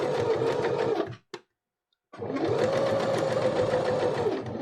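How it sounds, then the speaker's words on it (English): A domestic sewing machine runs steadily as it stitches fabric for a reusable face mask, pausing briefly mid-seam before whirring again at the same even speed, close and loud, with no talking over it. "slowly over the pins, and keep the edge of the presser foot on the edge of the fabric"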